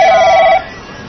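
An office telephone at a busy Taipei real estate agency rings once, loud and close, the electronic tone cutting off about halfway through.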